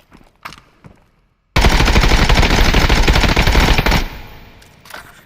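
Sustained full-auto burst of 5.56x45 rifle fire in the video game Contractors Showdown, loud and close, a rapid unbroken string of shots lasting over two seconds before stopping, with a few quieter clicks and thumps around it.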